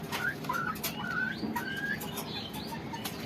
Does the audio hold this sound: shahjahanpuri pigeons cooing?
yes